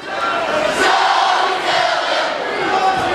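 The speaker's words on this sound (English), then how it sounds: "The crowd is so loud right now. What you're hearing right there is the Blue Springs Wildcats crowd." Loud, steady roar of a cheering home crowd at a high school basketball game, the Blue Springs Wildcats fans filling the gym with continuous shouting and noise.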